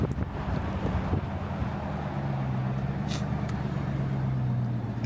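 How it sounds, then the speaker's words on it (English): A Jeep Trackhawk's exhaust idles at a car gathering, giving a steady, low, droning rumble. It sounds moderately distant, with light wind noise and no talking. "You hear the exhaust? I bet you the exhaust probably on that TRACKHAWK."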